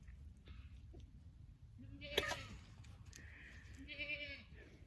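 A male goat on a farm bleats loudly in a wavering, nasal call midway through, followed by a second drawn-out bleat, over low rumbling background noise.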